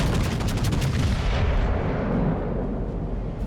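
Heavy main-battery salvo from the battleship USS North Carolina in World of Warships, a loud continuous rumbling boom of gunfire that fills the whole stretch with dense low roar and no talking.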